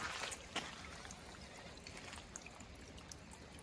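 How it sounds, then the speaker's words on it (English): Water seeps through a wall, trickling and dripping steadily in a quiet, echoing space, with a few soft splashes over a constant low wash. "There's a lot of water coming through there that doesn't normally come through."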